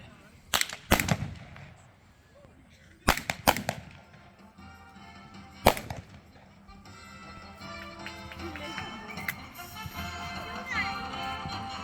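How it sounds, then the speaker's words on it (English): Colt .45 pistols fire at a Wild West show, a few sharp separate cracks spaced over several seconds, each ringing briefly before a steadier crowd and outdoor murmur rises toward the end. "Coming in hot with the two pistols, Colt 45 and Colt 4440."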